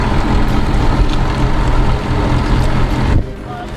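A sailboat's motor drones in a loud, close, steady rumble mixed with wind and water noise, then drops off abruptly near the end as it loses power.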